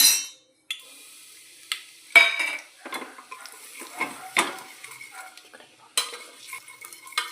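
A spoon scrapes and clinks against a metal cooker while stirring spices in oil, in irregular strokes, with light sizzling from the hot oil between the stirs.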